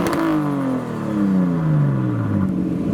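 A modified car revs hard and skids onto a roundabout, engine note sweeping down in pitch with gear changes while tyres scrub, loud and close, arriving at a car show.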